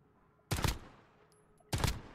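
Two separate gunshots in Warzone with the Modern Warfare audio preset, each a sharp, punchy, bass-heavy blast with a short tail, about a second apart over a quiet background.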